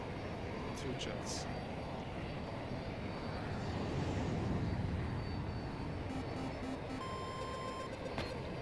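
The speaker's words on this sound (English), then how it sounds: "There's always a jet on me." A jet aircraft in the shooter game Battlefield 2042 roars overhead with a broad, continuous engine rumble that swells in the middle, joined by short electronic beeps near the end and no spoken words.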